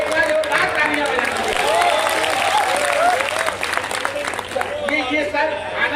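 An audience claps steadily at a Hindi poetry gathering held at a college, dense sustained applause with crowd murmur mixed in, fairly close and continuous throughout.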